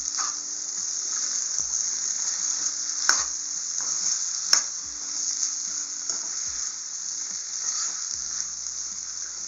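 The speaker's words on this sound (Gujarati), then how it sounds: "અને થોડાક લીલા ધાણા નાખી દઈશું અને શાકને મિક્સ કરી લઈશું." A spoon stirs cauliflower and potato curry with green garlic and coriander in a hot pan, with continuous sizzling and frying and a few soft scrapes and clinks over it, close and steady, with no talk.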